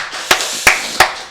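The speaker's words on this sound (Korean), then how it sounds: "우리 하나님께 박수 영광 드리겠습니다." A church congregation at a Korean Wednesday worship service claps in praise to God, three loud, sharp claps spaced evenly about a third of a second apart, close and bright over faint room noise.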